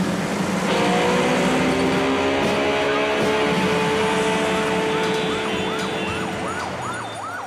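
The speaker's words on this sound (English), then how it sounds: "The traffic in the city won't calm down in the coming hours." Heavy city traffic in Bangladesh at dusk, a loud, dense wash of engines and horns with an emergency siren wailing through it, rising into a rapid yelping pattern near the end; no one speaks.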